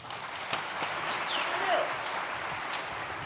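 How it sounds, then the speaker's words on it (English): Steady crowd clapping for a comedian at a conservative political summit, a sustained even wash of applause throughout. "Keep clapping for that kid right there, huh?"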